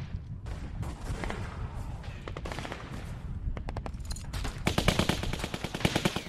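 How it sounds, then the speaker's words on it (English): Rapid bursts of gunfire in The Walking Dead Season 2 video game crackle and rattle in uneven volleys, growing louder and denser toward the end, with faint voices underneath. "So much gunfire."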